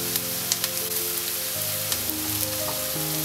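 Onions sizzling in a pan as turmeric powder goes in for a Malabar-style shrimp curry, a steady close frying hiss with a low hum underneath and a few faint clicks.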